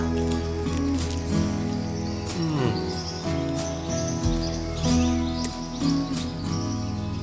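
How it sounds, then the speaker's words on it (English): Birds chirp and trill continuously over a dense outdoor background beside a creek, with several calls overlapping at moderate distance. "just listen to the birds."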